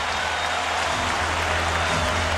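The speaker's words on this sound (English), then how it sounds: "Well, the crowd noise," A stadium crowd at a 2009 NFL game between the Chicago Bears and Pittsburgh Steelers makes a dense, steady roar that fills the whole stretch without letting up.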